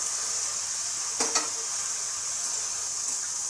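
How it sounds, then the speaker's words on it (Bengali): Eggplant, potato and onion fry in oil with black cumin, giving a steady bright hiss and sizzle with a brief burst of clatter near the middle. "বেগুন আলুটা অল্প দিয়ে, একটা পেঁয়াজ একটা দিয়ে এটা ভাজবো।"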